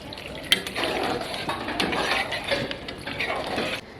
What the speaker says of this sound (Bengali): এইবার আমরা সামান্য পরিমাণ জল দিয়ে নেব